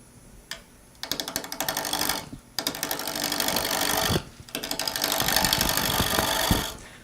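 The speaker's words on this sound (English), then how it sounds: "using a spindle roughing gouge, I'm like slightly below center" Spindle roughing gouge cutting a spinning wood blank on a lathe for a pepper mill: close, dense rattling chatter in several bursts separated by short pauses, with a light tick near the start.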